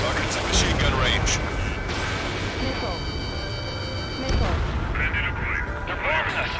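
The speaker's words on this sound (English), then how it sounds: "They're bombing us!" Bombing explosions in the video game Ace Combat 7, heavy continuous booming and rumbling with radio voices and game sounds layered over it.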